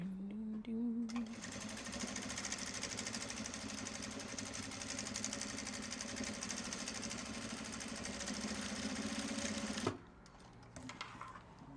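A sewing machine stitches bag straps in one steady, fast run of close, loud mechanical whirring that lasts about nine seconds and then cuts off abruptly.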